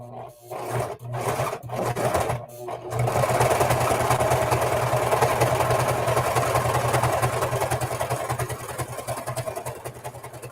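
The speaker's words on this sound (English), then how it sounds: "So I'll serge this edge down" A serger overlocks the fabric edge of a lunch tote bag, starting in a few short bursts before settling into a continuous, loud mechanical whirring hum that runs steadily to the end.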